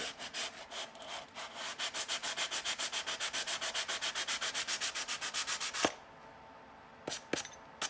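The carburetor gasket surface of an Allis Chalmers D17 tractor is sanded in quick, rhythmic back-and-forth strokes, loud and close, about thirty passes, then a few isolated taps and scrapes.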